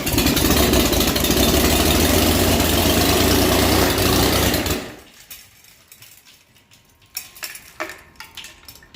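Chevy 250 inline-six fitted with a homemade camshaft retainer roars loudly and steadily for about five seconds, then cuts off sharply, leaving a quiet stretch broken by a few faint clicks and knocks.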